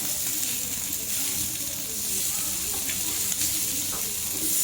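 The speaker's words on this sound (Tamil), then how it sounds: "இது ஒரு பக்கம் வெந்தோடனே 2 பக்கமும் நல்லா பொன்னிறமாக வேகிற மாதிரி திருப்பி போட்டு நம்ம எடுத்துடலாம்" Fish sizzles steadily in oil on a dosa griddle, a continuous close hiss with no breaks and no talking.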